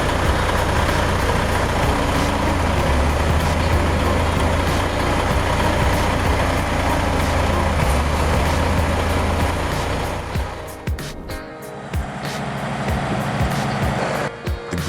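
A green tractor bogged down in mud while towing a massive cultivation system, its heavy diesel engine roaring loud and steady, then easing and revving unevenly as it strains.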